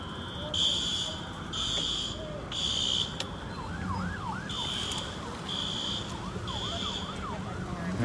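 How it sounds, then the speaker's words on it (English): A fire truck siren wails in the distance during a riot in Minneapolis, followed by loud repeating horn-like blasts, with a voice speaking over the scene. "Yep, fire truck."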